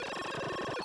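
Commodore VIC-20 arcade game sound effects from Donkey Kong, 1982: a dense, harsh electronic buzz with rapid pulsing tones, loud and continuous through a brief burst.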